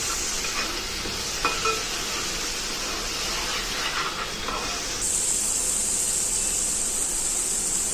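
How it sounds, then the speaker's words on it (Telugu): Tomato paste being stirred into a fish curry base in a pan, a soft hiss and sizzle with light spoon scrapes, close and steady, turning to a brighter steady hiss partway through. "టమాటా పేస్ట్ వేసుకోండి. వేసుకొని బాగా కలుపుకోవాలి."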